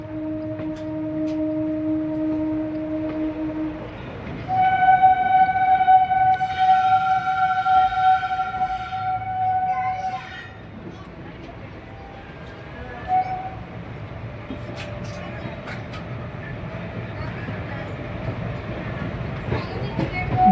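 Bhuj to Rajkot special train rolling on the rails, with a steady low rumble of wheels underneath and long sustained horn or siren-like tones rising partway through, then fading back to running noise.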